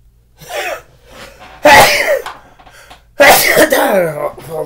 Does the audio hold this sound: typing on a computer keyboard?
no